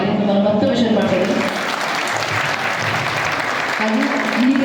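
Audience at a Dr. Vishnuvardhan memorial event with Bharathi Vishnuvardhan present claps in a dense, steady wash that holds evenly from start to finish, while a voice hums faintly beneath it.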